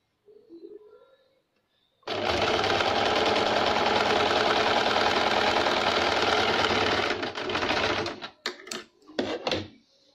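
A sewing machine stitches golden fabric to its lining from the wrong side, starting after a brief pause with a loud steady whir for about six seconds before slowing into short stuttering bursts.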